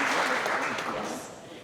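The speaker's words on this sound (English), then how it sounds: "yes, give him some applause." Applause from a company celebration audience honouring a truck driver, a short burst of clapping that fades out over a couple of seconds.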